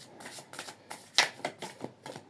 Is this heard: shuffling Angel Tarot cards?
yes